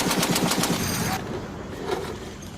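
An M2 machine gun fired by U.S. Marines lets off a rapid burst of evenly spaced heavy reports, then cuts off, leaving distant rumbling echoes and faint scattered shots.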